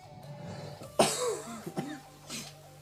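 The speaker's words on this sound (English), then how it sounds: "I apologize for the coughing." A man coughs during a live game stream, with one sharp, harsh cough at close range followed by a couple of smaller raspy coughs in a quiet room.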